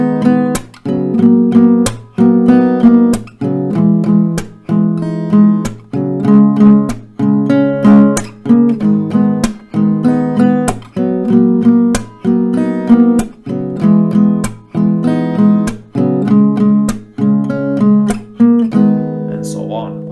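Acoustic guitar strumming a full chord round of a song in a steady repeating rhythm of strummed chords, each pattern ending with a short pause, close and clear with no voices over it.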